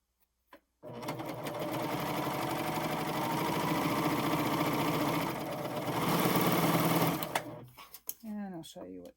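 Admire air 7000 sewing machine stitching piping fabric with a cording foot, a steady, close mechanical whir running for several seconds before stopping, followed by a voice talking.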